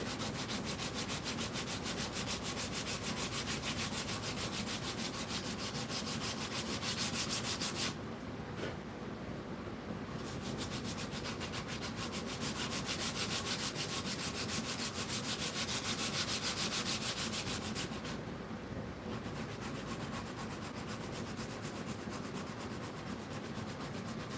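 Steady, continuous scraping of a Shinto rasp shaping wood during a restoration, close and rhythmic with brief pauses, and no talking.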